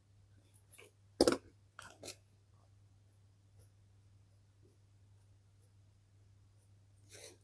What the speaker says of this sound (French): Il faut une gomme toute petite là.